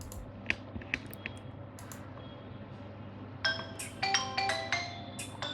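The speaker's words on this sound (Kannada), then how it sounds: "ನೋಡ್ಬೋದು ನೀವು ಮತ್ತೆ ರಿಂಗ್ ಆಗ್ತಾಯಿದೆ." A mobile phone rings again through the Find My Device ring option, a bright chiming tone starting partway through after a few faint taps and clicks, close but quiet.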